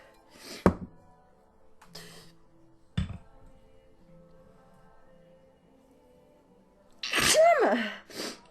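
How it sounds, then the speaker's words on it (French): Woman sneezing indoors, one loud, sharp, close sneeze near the end, preceded by a few soft knocks and light handling sounds. "Oh, j'ai encore éternué."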